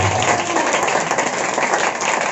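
Loud, dense applause from a congregation at a Telugu fasting prayer meeting, a sustained wash of many hands clapping together evenly from start to finish, with a few faint voices mixed in.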